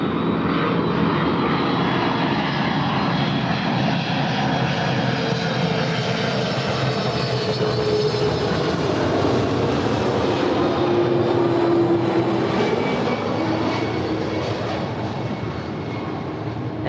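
An American Airlines A321neo, one year old, departs LAX bound for Kahului, Maui, its jet engines roaring loud and steady throughout with a broad rumble and a faint shifting whine, no voices present.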